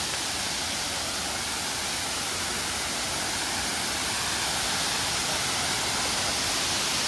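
Kuyemari waterfall near Keshkal, Chhattisgarh, pours in a dense, steady roar of rushing water, loud and unbroken throughout, with no voices audible.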